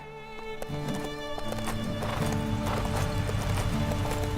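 Horses galloping and neighing in Lego Marvel Super Heroes 2, steady clip-clop hoofbeats under a whinny, layered over game music that runs throughout, moderately loud and with no talk.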